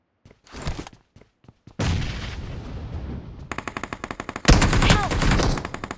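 Rapid gunfire from a mobile battle-royale shooter game: a few isolated shots, then a sustained burst of automatic fire and a loud, close volley, with no voices over it.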